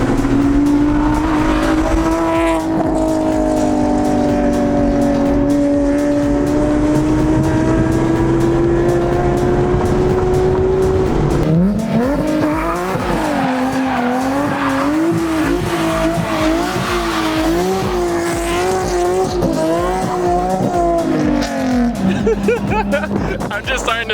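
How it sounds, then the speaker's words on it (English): A C7 Corvette's American V8 howls through rising and falling revs with tire squeal on city streets, loud and close throughout, its pitch sweeping up and down in long pulls. "Just a good old American V8"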